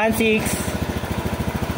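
A fuel-injected motorcycle engine idles with a fast, even train of low thumping pulses, close and steady, with a voice briefly at the start.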